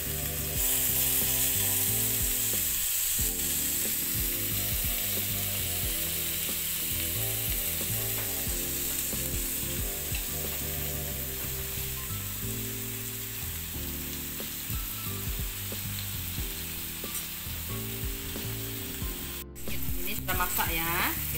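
Crab fries in a pan with a steady, dense sizzle and hiss that runs the whole time, broken by rapid clicking and rattling, with a brief sharp knock near the end.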